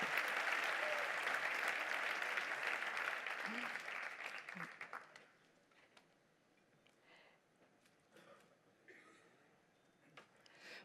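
An audience claps steadily at a business awards ceremony, the applause dense at first, then thinning and fading out after about five seconds, leaving quiet room tone and faint movement.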